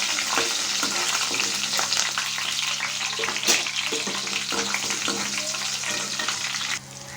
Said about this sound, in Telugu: కొంచెం ఫ్రై అయినాయి కదండి కరివేపాకు యాడ్ చేసుకుంటున్నాను